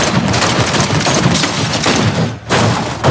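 Loud, sustained gunfire during street combat in Cyberpunk 2077, rapid overlapping shots and thuds packed close together, with a brief dip near the end before the shooting resumes.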